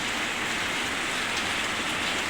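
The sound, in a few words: heavy rain pouring down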